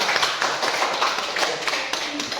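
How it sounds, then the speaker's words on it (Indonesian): Students in a classroom clap their hands in applause, a dense, fast patter of claps that is loud and close and lasts throughout the short stretch. "Tepuk tangan untuk semuanya."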